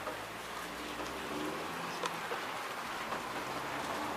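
Steady January rain falls outdoors as a continuous, even hiss of drops, with a few brief louder spatters and no voices.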